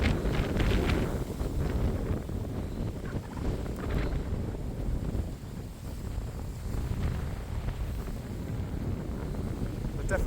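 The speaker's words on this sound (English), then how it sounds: "It's a bit windy today." Steady, heavy wind buffeting a microphone, a constant low rumble and roar throughout with no breaks.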